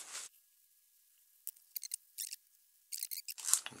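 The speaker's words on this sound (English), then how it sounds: "I'll just cut the excess plastic bag off now." Scissors snip through an excess piece of clear plastic bag on a homemade hair dryer pizza tray hovercraft, a few crisp, close cuts in quick bursts separated by near silence.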